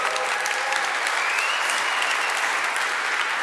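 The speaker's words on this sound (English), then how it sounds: "I expected a bigger applause for my deep understanding" Audience applause at a keynote for an Angular developer conference, a dense, even wash of clapping from a large crowd, steady and moderately loud for the whole stretch.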